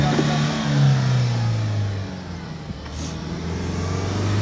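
A Mahindra Thar off-road vehicle's engine revs steadily during rough off-roading, a close, sustained mid-low drone that rises and falls slightly, with no talking over it.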